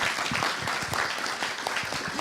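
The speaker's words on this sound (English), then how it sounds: "Can we have a huge round of applause for Saul?" Steady, dense audience applause for a conference session speaker, a continuous wash of many hands clapping at even loudness throughout with no talking.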